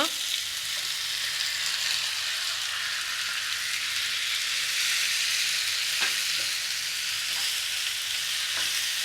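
Bombay duck fish frying with chopped tomato in a pan, a steady dense sizzle throughout with occasional soft knocks from stirring, close and fairly loud.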